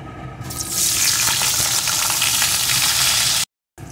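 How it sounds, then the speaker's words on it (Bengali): Potato pieces frying in hot oil, a steady loud close sizzle with faint stirring rattles, cut off briefly near the end. "এখন এই তেলের ভিতরে আলুর টুকরোগুলোকে দিয়ে দেবো।"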